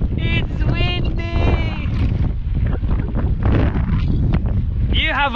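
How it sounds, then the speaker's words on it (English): Strong wind buffets the microphone on a cycling road ride toward Henley-on-Thames, a loud, continuous roaring rush with voices partly buried beneath it. "It's windy!"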